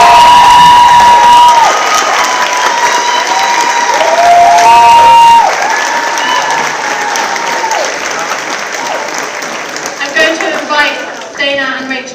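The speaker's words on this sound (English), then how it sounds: "Another round of applause for our amazing models" Loud audience applause and cheering at a New York Fashion Week show, dense clapping sustained throughout with an announcer's amplified voice over it and shouts rising near the end.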